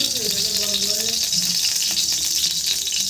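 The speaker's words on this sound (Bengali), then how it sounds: "কড়াই আমরা গরম হয়ে গেছে, ফ্রাইড রাইসের জন্য কড়াইয়ে বসিয়ে দিয়েছি। এর মধ্যে এখন ঘি দিয়ে দিই।" Ghee hits a hot wok for fried rice and sizzles, a continuous bright crackling hiss with faint scraping and clatter underneath, steady and close for a few seconds.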